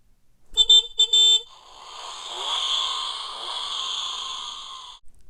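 A Jellycat Wheezy car plush toy is shaken, and its internal noise device gives a few short electronic beeps followed by a long wheezing, sighing tone that fades out.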